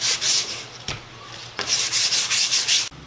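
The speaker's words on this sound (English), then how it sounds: "Now I'm just going to do a little finish sanding before I stain it." Sandpaper rubs back and forth across a wooden 2x8 board in several steady, raspy finish-sanding strokes with short pauses between them, close and fairly loud.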